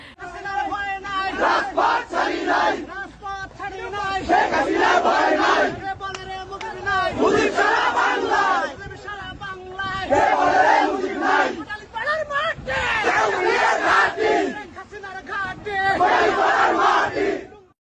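Large crowd at a political rally in Gopalganj, Bangladesh, chanting slogans in loud rhythmic bursts of many voices, with brief pauses between lines and a steady roar throughout.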